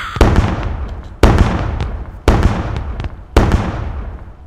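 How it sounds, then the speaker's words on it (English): Four loud booming dynamite explosions in a steady rhythm in the game Sir, You Are Being Hunted, each followed by a crackling, fading rumble. "that was a good fireworks show"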